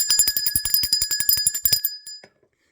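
A bright metal bell rung rapidly in quick repeated strikes, ringing close and clear for about two seconds before stopping abruptly into silence.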